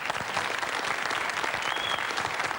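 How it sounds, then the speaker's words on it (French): Studio audience on a French television show applauds loudly and steadily, a dense wash of clapping throughout. "Bravo, vous pouvez applaudir alors attends."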